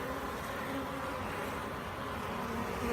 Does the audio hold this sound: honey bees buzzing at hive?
yes